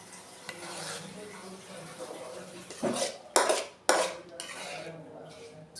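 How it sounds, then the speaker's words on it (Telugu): Spinach and tomato curry being served into a bowl, with metal utensils clinking and scraping against cookware in steady low clatter, capped by a few sharp, louder clanks near the end. "ఇదిగో గిన్నెలో తీసుకుంటున్నాం"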